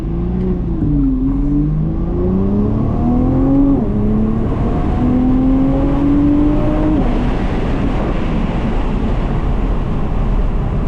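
A discontinued Nissan GT-R in manual mode accelerates hard through several gears, the engine note climbing and dropping at each shift, loud and close inside the cabin with steady road roar beneath.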